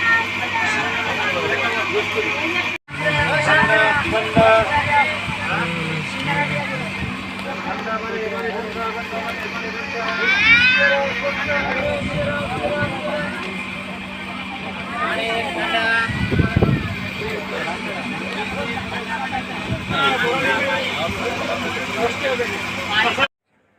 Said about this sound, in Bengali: আমাদের ট্রেন ধীরে ধীরে এখন যমুনা সেতুর উপরে চলে যাচ্ছে